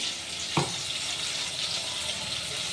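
Hot oil sizzles in a cooking pan as a meal is prepared, a constant soft crackling hiss. A single clink of a utensil sounds briefly near the start.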